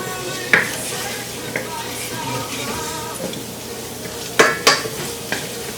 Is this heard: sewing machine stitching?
no